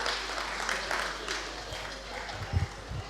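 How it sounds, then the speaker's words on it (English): An audience applauds a newly introduced executive at an independence celebration. The clapping is faint and distant, a soft, steady patter with a few louder thumps near the end. "Please, can you give them a round of applause"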